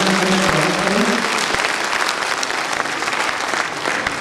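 Loud, steady applause from an audience at a public gathering in Chhattisgarh, a close, dense roar of clapping that holds throughout.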